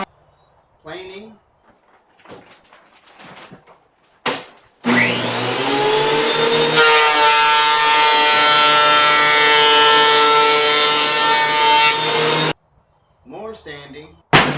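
A power planer runs over wooden shoe rack boards for about eight seconds, a loud, steady, high whining roar with a shift in pitch partway through, framed by brief quiet knocks and handling sounds.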